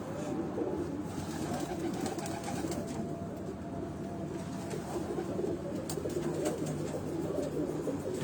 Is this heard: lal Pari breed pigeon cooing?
yes